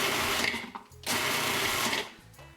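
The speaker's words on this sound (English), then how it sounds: "give it a quick pulse in the food processor" Food processor pulsing chopped onion pieces into small chunks: two loud motor bursts of about a second each, split by a short pause, then a brief quieter spin at the end.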